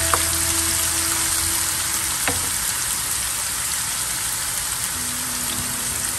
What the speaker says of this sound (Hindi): ऑनियन को हम एकदम ब्राउन करेंगे, नाइस गोल्डन ब्राउन कलर होने देंगे ऑनियन का।